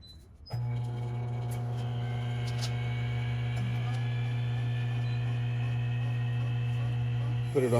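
A vacuum pump pulls down the air-conditioning system on an LS-swapped Chevrolet C10 pickup, starting abruptly and running as a steady, close, droning hum with a constant pitch for several seconds.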